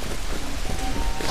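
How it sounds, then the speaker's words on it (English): Rain falls in the video game Dead Island Riptide, a steady hissing patter on surfaces that continues without a break through a short moment. "It's raining."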